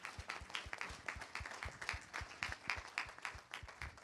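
Crowd at a rally applauds in a steady wash of dense clapping, fairly distant and even, with individual hand claps popping out of the mass throughout.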